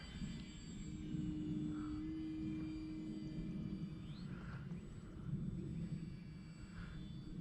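An Arrows Trekker radio-controlled plane passes overhead with a steady droning motor hum that rises and falls gently over several seconds, heard alone against an outdoor background.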